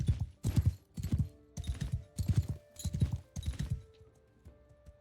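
Horse hooves splash through shallow water in the game Mount & Blade 2 Bannerlord, a steady run of heavy, close clip-clop strides that thins out and fades near the end.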